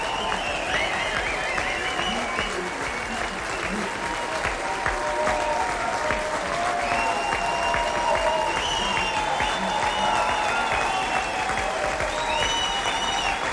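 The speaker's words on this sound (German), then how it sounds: "er wird mit großem Applaus in Empfang genommen." Loud, steady applause from a large crowd greets Joschka Fischer at a 1998 German federal election night event, running unbroken throughout with a brief spoken word over it.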